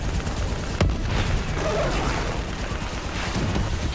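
Sustained gunfire aimed at a VTOL aircraft during a Black Ops 3 campaign battle, a dense wash of shots with one sharp crack near the start, loud and continuous throughout.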